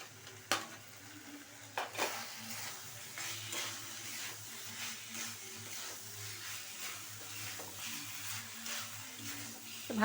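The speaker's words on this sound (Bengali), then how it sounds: "আলুগুলো দিয়ে দেবো" Potatoes frying and being stirred in a pan while cooking a Bengali fish-head muri ghonto, with a steady soft sizzle under repeated scraping strokes and a few sharper utensil knocks, close by and moderately quiet.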